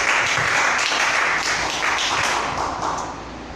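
A church congregation bursts into sustained, dense applause, loud and steady throughout before easing off slightly at the end, with no clear speech over it.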